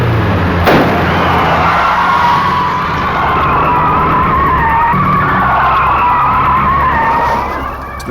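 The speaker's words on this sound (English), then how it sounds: "Manauzi rammed the fugitive's car from behind." A car rams a fugitive's car from behind, with tires skidding in a long, loud, sustained screech over engine roar that stays close and steady before easing off at the end.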